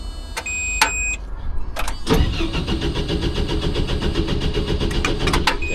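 A brand-new, out-of-fuel dumper engine cranks and briefly catches in repeated sharp bursts, followed by a steady, close mechanical running rumble with periodic clicks, no voices.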